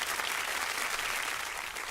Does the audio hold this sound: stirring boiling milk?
no